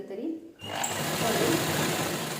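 A sewing machine stitches sari fabric at close range. After a brief quiet start it runs as a steady, dense mechanical whir with rapid needle chatter that holds to the end, with a voice speaking at times.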